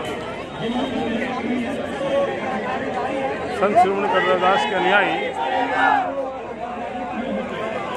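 At a Dalit protest in Tughlakabad over the demolition of a Ravidas temple, a large crowd fills the air with overlapping chatter and shouts while a reporter speaks close over the noise.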